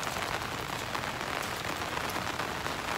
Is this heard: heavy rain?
yes